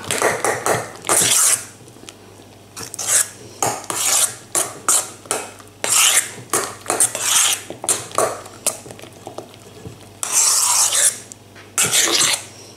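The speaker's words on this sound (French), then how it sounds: "Alors je mélange ma chantilly avec le tarama." Whipped cream being folded into tarama in a bowl for canapé filling: repeated scraping, rasping strokes of a utensil against the bowl, in bursts with short pauses, close and fairly loud, with no talk.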